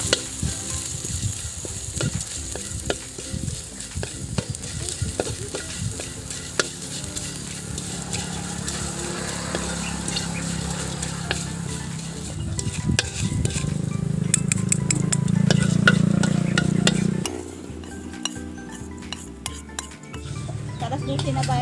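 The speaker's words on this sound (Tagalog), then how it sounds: "magluluto tayo ng pinipig" Pinipig rice flakes cook in a pan as a spoon stirs and scrapes them through a steady sizzle that swells and then drops off near the end, with people talking over it.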